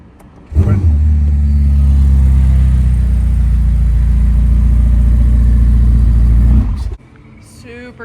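A Ferrari SF90 XX hybrid supercar roars into a loud, sustained rev lasting several seconds, a deep, steady engine bellow held close to the listener before it cuts off abruptly.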